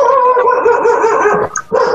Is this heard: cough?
no